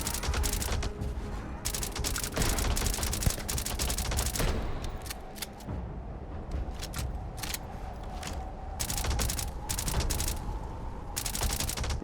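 Gunfire in the Starfield video game, rapid bursts of sharp shots crackling in dense volleys with brief gaps between strings, loud and close throughout.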